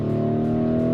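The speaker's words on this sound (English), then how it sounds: "I think the exhaust is opened up just onto another level again." Lamborghini Urus twin-turbo V8 exhaust in Corsa mode, a loud, steady, throaty drone holding one note close up for a moment, with no voices over it.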